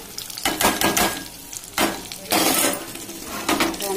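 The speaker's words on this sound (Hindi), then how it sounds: "हमारा ड्राई फ्रूट तड़क गए हैं" Dry fruits and raisins are tempered in hot fat for rice kheer, giving bursts of loud crackling sizzle and clinking stirring against the pan, rising and falling in irregular surges.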